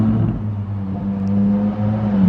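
A Ferrari 458 Speciale drives past on a street in Monaco, its engine holding a steady droning tone that swells slightly toward the end, fairly close with no one talking.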